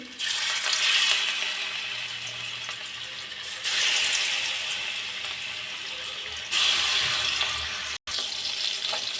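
Whole fish sizzle in hot oil in a home kitchen, a loud steady frying hiss that swells in waves and breaks off briefly near the end.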